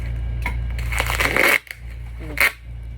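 Close-up crinkly cutting through plastic packaging with scissors, two or three short rustling bursts over a steady low hum.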